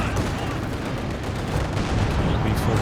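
Artillery barrage in Company of Heroes 2, a dense, continuous rumble of distant shell impacts and gunfire layered under steady game noise, with a commentator talking over it.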